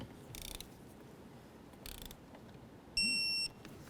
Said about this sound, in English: Now that we have all of our bolts bottomed out, we're going to torque them to 89 inch-pounds.